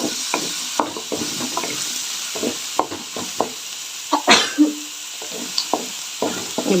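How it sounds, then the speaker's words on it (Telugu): A spoon stirs mango pieces into cooking dal in a pot, with soft irregular scrapes and wet knocks over a faint sizzling, close by, with no voices. "మామిడికాయ ముక్కలు వేసా ఇప్పుడు బాగా కలిసేలాగా కలిపి చేసుకుంటా"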